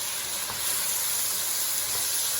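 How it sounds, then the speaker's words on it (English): Canned corn is stirred into a hot, creamy cheese sauce with zucchini, giving a close, steady sizzle with a few soft stirring scrapes underneath. "I'm gonna go ahead and put my can of corn. I'm gonna give that a stir"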